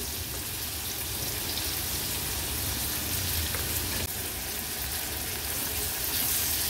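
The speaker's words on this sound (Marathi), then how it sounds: "कांदा आता आपण परतून घेऊया तेलावर" Chopped onion frying in hot oil with cumin seeds and curry leaves for a tempering, a steady, dense sizzle that fills the whole stretch close and loud, with faint stirring scrapes and no talking.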